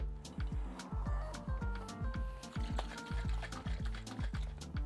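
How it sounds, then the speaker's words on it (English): Boiling water poured into a pan of thick tomato sauce gives a faint, continuous liquid trickle with repeated soft bubbling pops and low thumps, with no talking. "I generally save whatever's left with another little bit of boiling water"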